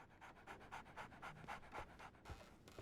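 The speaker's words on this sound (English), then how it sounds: "So, Barnes has a dog now." A dog in the Sherlock Holmes: The Awakened video game pants in quick, even rhythmic breaths, about four per second, faint and close, with no talking.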